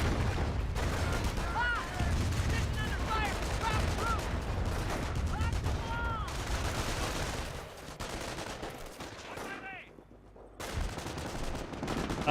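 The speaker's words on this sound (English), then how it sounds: "rocket barrage running on in" Rocket barrage in the World War II strategy game Company of Heroes, with dense, rapid explosions and whistling launches building over several seconds, mixed with ongoing gunfire and battle effects while game voices and commentary talk over the action.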